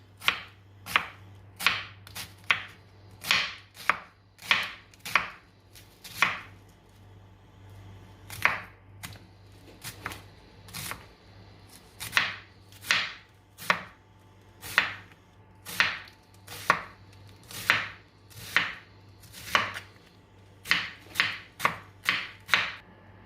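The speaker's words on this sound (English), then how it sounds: "I'm just gonna be chopping the onion" A knife chops an onion rapidly on a cutting board, crisp repeated strikes in uneven bursts with brief pauses, close up over a low steady hum.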